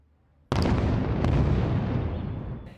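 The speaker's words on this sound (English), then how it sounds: "Israel carried out one of its most powerful strikes on the Lebanese capital today" A single powerful blast from an Israeli airstrike on densely populated central Beirut erupts suddenly after near-silence, followed by a heavy, rumbling roar with crackling debris that slowly fades over about two seconds.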